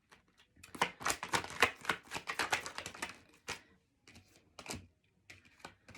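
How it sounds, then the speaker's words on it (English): Tarot deck shuffled by hand nearby, a rapid run of crisp clicking card slaps in the first half, followed by a few sparser isolated taps, fairly quiet overall. "Let's shuffle a little bit here with this one."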